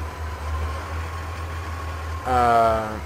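A steady, low engine idles throughout, then revs up near the end with a rising, rougher mechanical growl, like a heavy truck motor; a Kamaz truck in Euro Truck Simulator 2.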